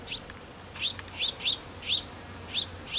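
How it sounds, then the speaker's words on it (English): Greenfinches chirping nearby, a series of about seven bright, sharp tweets in loose rhythm, each short and clear against a quiet background. "It's finches, green finches."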